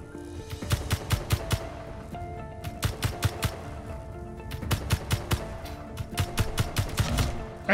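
Rapid bursts of automatic turret gunfire from the space game Space Engineers, loud repeated volleys of sharp shots in several clusters with brief pauses between them, no voices.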